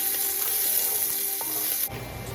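Onion, green chilies and curry leaves fry in a pan with a steady close sizzle and some stirring scrapes, the hiss cutting off sharply near the end.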